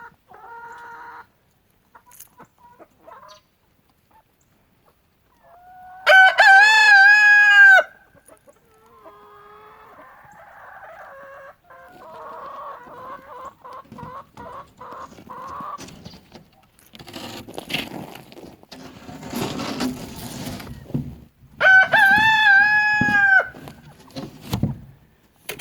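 A farm rooster crows loudly twice, long wavering calls separated by stretches of softer clucking and a rapid run of cackling notes, with faint rustling and movement in between.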